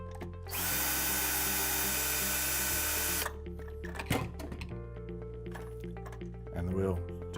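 A power tool whirs in a sustained burst for a few seconds while undoing the wheel axle screws on a Polaris Vac-Sweep 280 pool cleaner, followed by a few clunks and a short second buzz, close by.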